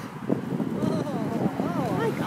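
Strong gusty wind buffeting the microphone while someone walks outdoors, a low rumbling roar running throughout beneath people talking.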